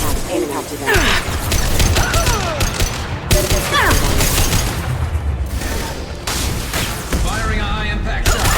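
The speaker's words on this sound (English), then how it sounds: "Firing a high impact shot." Loud bursts of high-impact gunfire from the Mass Effect 2 video game, several heavy shots with booming impacts packed close together over a dense battle mix, with game voices speaking throughout.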